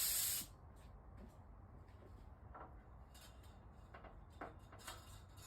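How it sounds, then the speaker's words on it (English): A cheap gravity feed spray gun gives a short, loud hissing burst of primer onto vintage Delta Rockwell drill press parts, then cuts off, leaving faint room noise and a few light clicks. "I'm putting this on with a cheap gravity feed spray gun"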